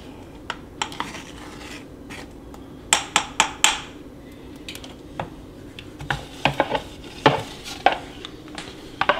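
Homemade enchilada sauce for Tex Mex enchiladas is scraped from the bottom of a pan, producing a close series of sharp utensil scrapes and clinks in irregular bursts over a low, steady background.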